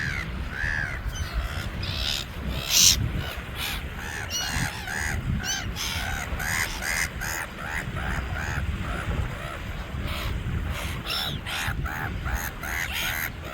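Pigeons call at a beach on a day out, a dense continuous chorus of overlapping calls held close and fairly loud throughout, with no pause in the flock's noise.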